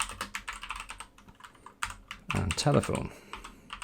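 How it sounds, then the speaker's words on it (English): Computer keyboard typing during a spreadsheet or database task: rapid, uneven key clicks in bursts, close and fairly loud, running under a person talking. "keyboard's quite loud, I know"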